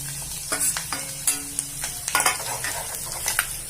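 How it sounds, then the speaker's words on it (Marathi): Crushed garlic and coconut slices fry in a pan for Khandeshi bharit, a close crackling sizzle broken by repeated spoon scrapes and stirring clatter against the pan. "लसूण टाकतोय खोबऱ्याचे काप केलेले ते पण टाकतोय"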